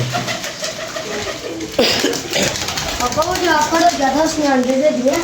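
Pigeons coo in a loft as grain is scattered, low soft rolling calls mixed with wing flutters and shuffling, with people talking nearby over the birds.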